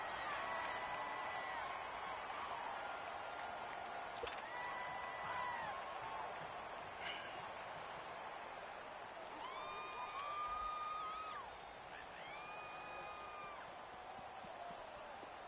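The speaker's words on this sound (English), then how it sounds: "The crowd here in the Dome making things difficult." Stadium crowd noise in a PS4 football video game, set in a domed stadium: a steady, distant crowd roar under the action, with swelling tonal cheers and horn-like calls rising and falling.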